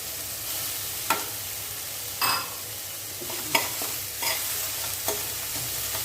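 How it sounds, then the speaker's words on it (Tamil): Chayote and carrot sauté in a pan for a Tamil poriyal, with a constant sizzle and a spatula scraping and stirring roughly once a second, each stroke a short distinct scuff. "கொஞ்சம் நேரம் வதங்கட்டும் இப்போ காய் நல்லா உங்களுக்கு வதங்கிடுச்சு"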